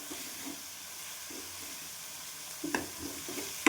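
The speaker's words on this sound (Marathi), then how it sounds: "अशा पद्धतीने छान आपण वाटण भाजून घेऊया" Masala paste roasting in a pan, a faint steady sizzle with soft periodic stirring scrapes, a few louder scrapes and clinks near the end.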